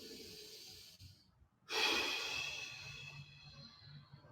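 During a yoga stretch a person breathes in deeply and then out, with a short quiet gap between. The long hissing exhale sounds close to the microphone and is soft overall.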